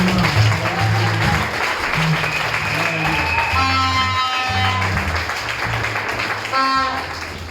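A church congregation applauds steadily, a dense wash of clapping that carries on throughout while music and voices play underneath.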